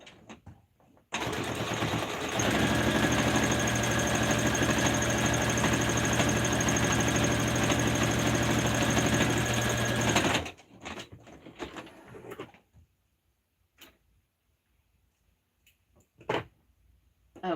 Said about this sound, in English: be sure that you always sew right sides together